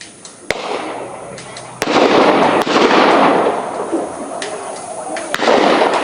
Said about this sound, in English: As we hear more gunfire.